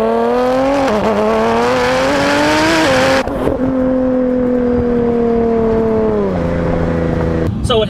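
A 1600 hp Nissan GT-R fitted with an ETS 35R turbo kit accelerating hard through the gears, loud steady engine drone that rises in pitch, with a brief drop at a gear change.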